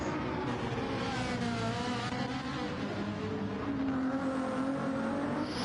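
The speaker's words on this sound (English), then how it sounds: "that Ferrari 296 sounds nice as well" A Ferrari 296 GT3 race car in a racing video game, its engine revving and shifting with a rising, wavering whine that runs continuously at moderate loudness, with no speech.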